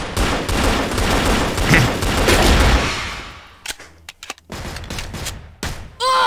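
Colt 1911 Bumblebee pistol firing in the CrossFire video game, a dense loud burst of shots for about three seconds, then a few separate sharp reports and clicks.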